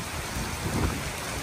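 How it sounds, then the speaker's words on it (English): Heavy rain pours down steadily during a stop on a motorcycle trip with a Kawasaki ZX-10R, a dense continuous hiss with a few low rumbles, close and unbroken, with no talk. "I'll ride in the rain, but not coming down like this"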